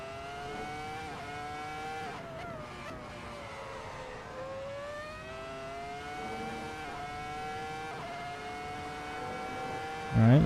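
A race car laps in Assetto Corsa, its engine whining in tones that rise and fall through gear changes and throttle lifts, steady and moderate in level, with a short loud burst at the very end.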